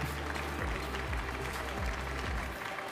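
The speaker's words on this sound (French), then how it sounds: "On peut les applaudir bien fort." Sustained, even applause for the jury at a French bakery championship prize ceremony, a continuous crowd of clapping hands over a low droning hum.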